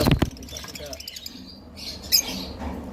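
A lovebird gives a few short, sharp chirps and squawks, close by and scattered across a brief moment, with faint background noise between calls.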